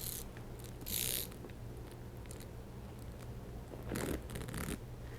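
A Chanel bag strap is cinched and adjusted, giving two short bursts of metallic chain-and-hardware rattling over a quiet background hum, with softer clicks and shuffling between them.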